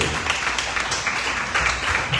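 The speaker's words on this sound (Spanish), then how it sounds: "Un fuerte aplauso al Señor." A church congregation claps loudly and continuously, a dense, even wash of many hands with no break, filling the room at close range.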